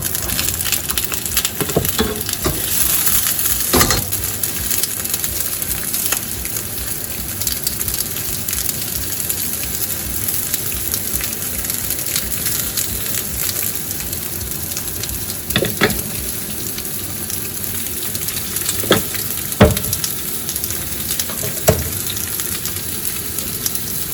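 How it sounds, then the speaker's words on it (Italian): Steady, continuous sizzling of zucchini frying in olive oil in a pan, with occasional sharper crackles and clatters, close and fairly loud. "facciamo friggere bene le zucchine"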